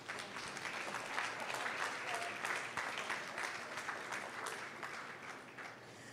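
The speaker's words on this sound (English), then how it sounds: "I think we should give her a round of applause." Steady applause from an audience at the closing ceremony of the Caribbean Forum on Population and Development, dense clapping throughout at moderate level.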